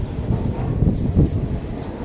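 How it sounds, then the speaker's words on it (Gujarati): Strong wind blows outdoors beside a spinning windmill on a farm. It makes a heavy, low, buffeting rumble with gusty surges as it batters the microphone, continuous and close. "પવન ચકી જો કેટલી મસ્ત ફરે અને અટાણ પવન પણ જોરદાર છે"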